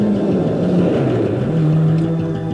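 Rally cars at speed on a special stage of the 1988 Esanda, engine roaring loud and close with a steady high-gear whine and rumble, no voices.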